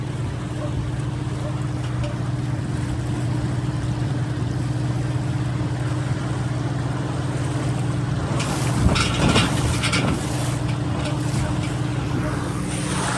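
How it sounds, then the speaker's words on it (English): A boat with an electric outboard motor runs steadily with a low drone, wind buffeting the microphone, and a burst of splashing water as it hits waves near the end. "Oh, we're about to test this boat on waves."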